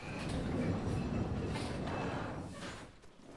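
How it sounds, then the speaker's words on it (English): A train ride in the video game Resident Evil 4 gives a steady, enveloping rumble of rolling carriage noise and wind that holds at a constant level before easing off slightly at the end. "back for a nice, lovely train journey"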